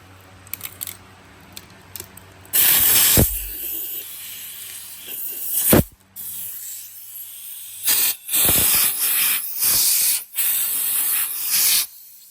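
A compressed-air nozzle blasts sanding dust off an abstract wooden charcuterie board, loud hissing bursts in several separate spurts with short pauses between them, fairly close.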